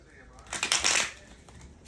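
A brief riffle of cards being shuffled close by, a quick papery burst that swells and fades within a couple of seconds.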